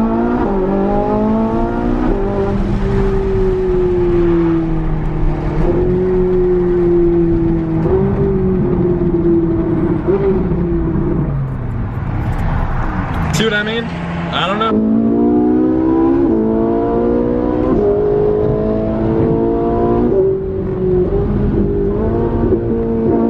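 A Ferrari engine rises through the revs under hard acceleration, the pitch climbing steadily with gear shifts and a brief lift near the middle, loud and close from inside the car, with talking over it.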